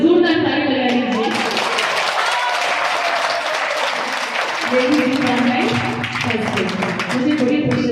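Clapping from an audience gathered for a devotional bhajan event, heard alongside music or voices, with steady crowded applause across the whole stretch.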